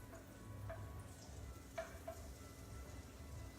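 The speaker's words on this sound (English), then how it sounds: "You hear a sizzle?" Butter melts in a hot frying pan with a quiet, soft sizzle, faint steady crackle broken by a few small ticks and pops, close and alone.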